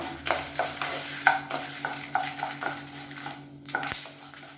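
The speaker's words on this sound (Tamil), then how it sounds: "இந்த ஸ்டேஜில் ஒரு 8 வரமிளகாயை சேர்த்து நல்லா பரட்டி விட்டுக்கலாம்." Dried red chillies stir-fried with roasted horse gram in a pan: rhythmic scraping strokes of a spatula against the pan, about a dozen, over a soft dry sizzle, close and alone without talk.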